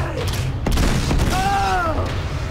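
Gunfire and booming blasts from an Uncharted 2 boss battle, several sharp bursts close together under a loud game soundtrack, with a voice talking over parts of it.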